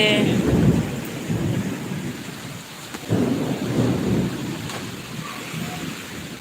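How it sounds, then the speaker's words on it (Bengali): Deep rolling thunder rumbles repeatedly over a steady wash of heavy rain, loud and close, with no other sounds standing out. "প্রচণ্ড মেঘ ডাকছে"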